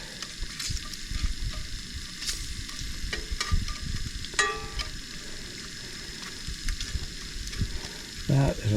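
Bacon and eggs fry in a pan at a campsite, giving a steady, close sizzle with occasional scraping and clinking from stirring throughout.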